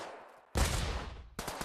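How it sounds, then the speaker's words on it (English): Loud, close pistol gunshots from the multiplayer shooter game Pavlov, a burst of rapid overlapping shots followed by a brief pause and another shot with trailing reverberation. "I shot him in the chest multiple times"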